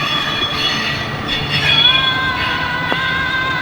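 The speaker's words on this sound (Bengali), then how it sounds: "দেখেন কত স্লো মোশনে যাইতেছে ট্রেন এখান থেকে।" A train rolls slowly past the Jurain railway gate, its wheels letting out a long, high, steady squeal over a continuous low rumble, close and loud.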